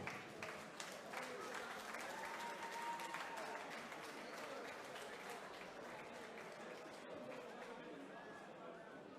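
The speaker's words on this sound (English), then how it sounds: "Let's have a round of applause, please," A boxing crowd applauds two fighters after a three-round amateur bout, a steady wash of clapping and chatter filling the hall for the whole stretch, with some voices in the mix.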